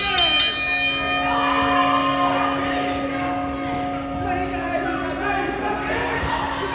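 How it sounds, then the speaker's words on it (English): A bell clangs at a wrestling match, sharp strikes at the start and a long ringing tone that fades, with a commentator talking over it and faint crowd noise. "Ring the bell."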